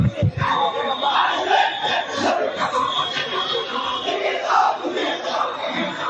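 A large street protest march crowd chanting slogans together, a loud, dense, continuous roar of many voices with rhythmic shouted calls, close and filling the whole stretch.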